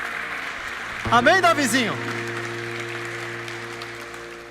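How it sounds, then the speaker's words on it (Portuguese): A church congregation claps through a morning worship service, a moderate, even spread of applause beneath a man's short spoken line near the start. "Você quer aplaudir o Senhor nesta manhã, amados?"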